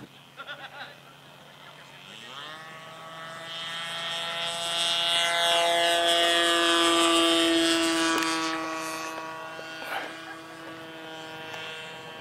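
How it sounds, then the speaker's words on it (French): A radio-controlled aerobatic model airplane, a Laser, takes off at an outdoor model aviation meeting; its engine buzz rises in pitch and loudness to a strong, sustained whine, then fades slightly as it climbs away. "Donc le laser est décollé."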